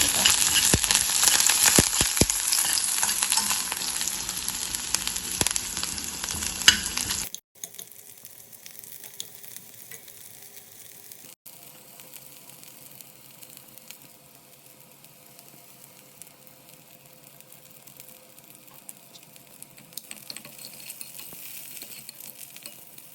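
Curry leaves and spices sizzle loudly in hot oil in a pan for the first several seconds, then the frying cuts off abruptly, leaving only faint kitchen background with occasional soft clinks.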